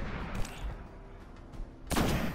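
Gunfire from the video game Destiny on PS4: a dense, loud burst of synthetic shots and impacts running throughout, with a sharper, brighter shot near the end.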